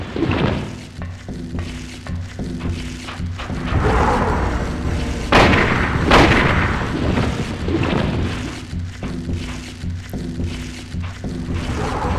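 Heavy gunshots in the Silent Hill video game, a few loud booming blasts standing out over a dark droning background, with no talk in between.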